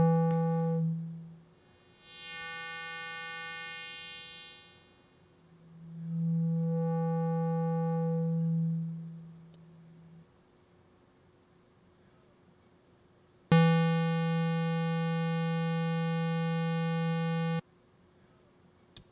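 A synthesizer tone in Massive runs through a band reject filter, a steady buzzy harmonic drone that swells and fades in sustained notes, with a sweeping tonal change early on and a hard-cut final note; no talk.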